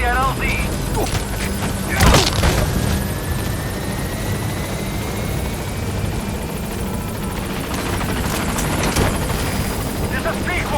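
Helicopter arriving at a landing zone in Metal Gear Solid V, its steady loud rotor thump and engine whine running throughout beneath voices speaking over radio chatter, with a couple of brief sharp bursts.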